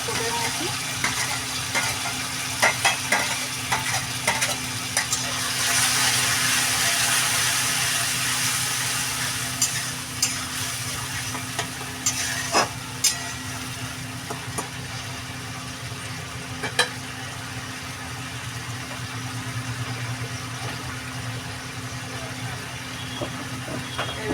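Cabbage frying and being stirred in a hot pan with onion, oil and tomatoes, a steady close sizzle with occasional scraping and clinks of a utensil, no voices over it.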